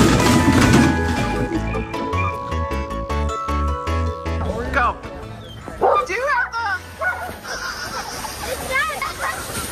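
A dog barks and whimpers in short yips and whines through the second half, mixed with sloshing water, music and people talking loudly over it.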